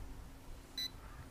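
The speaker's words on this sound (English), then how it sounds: "I don't know why it's beeping." A JJRC X15 Dragonfly toy drone gives a single short, high-pitched electronic beep against faint background noise.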